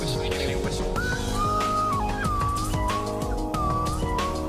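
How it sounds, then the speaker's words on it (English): A slide whistle glides up and down in pitch over busy background music, with swooping tones repeating for several seconds. "That's what they call a slide whistle."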